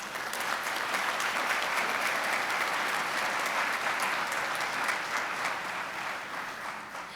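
Steady, dense applause from a large crowd at a community college commencement ceremony, sustained evenly and easing slightly toward the end.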